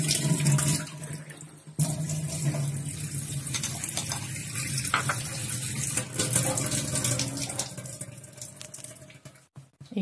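Water runs from a kitchen tap, filling a container for coffee, in a close, steady gush with a brief break near the start and a tapering finish.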